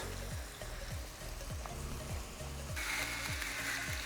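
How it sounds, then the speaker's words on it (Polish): Shrimp frying in a pan, a steady sizzle running throughout and growing brighter and louder near the end, with faint low rhythmic thumps underneath. "Krewetki się usmażyły"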